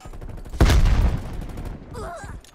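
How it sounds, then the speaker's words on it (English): Grenade exploding in a shooter video game: a sudden loud, deep blast with a rumbling tail that fades over about a second, followed by faint ringing tones afterward. "Throwing grenade."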